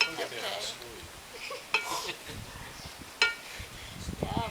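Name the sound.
mixing food with utensils in a bowl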